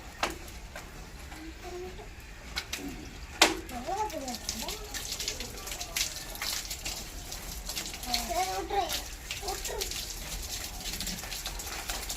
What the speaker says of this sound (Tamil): தண்ணி திறந்துடுங்க.